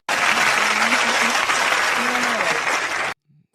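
Audience applauding and cheering for Trump, a dense, loud burst of clapping from a crowd that runs for about three seconds, then cuts off abruptly.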